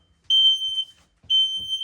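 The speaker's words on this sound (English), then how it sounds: "on the ceiling here is the smoke alarm" Two loud, piercing electronic beeps from a ceiling-mounted, 9-volt battery smoke alarm in a 2022 Forest River RPOD 192 travel trailer, each sustained for about half a second, separated by a brief pause.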